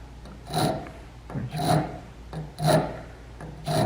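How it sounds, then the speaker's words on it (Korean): A hand tool is pushed and rasped into a 1/2-inch copper refrigeration pipe to start a hole, giving four steady scraping strokes about a second apart, close and fairly loud with no talking. "이렇게 밀어서 일단 약간의 구멍을 만들어야 돼요."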